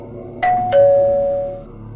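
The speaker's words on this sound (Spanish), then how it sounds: "Otro timbre impaciente." A motel front-desk doorbell rings twice in quick succession, each a clear electronic chime, the second tone lingering and fading slowly against a quiet room.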